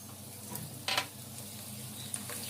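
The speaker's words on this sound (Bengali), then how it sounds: "এখন জল ঝরাইয়ে একটু শুকাই নিয়ে আসলাম, আনে এই যে এবার তেলে ভাজতেছে" Chana dal, soaked overnight with baking soda then drained and dried, fries in oil with a steady soft sizzle; a brief louder stirring scrape comes near the middle and a small click follows later, with no talking.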